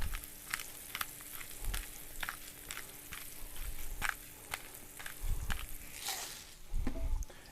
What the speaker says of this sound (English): I like to let these cook as is for a couple minutes before I smash them down to get that bottom good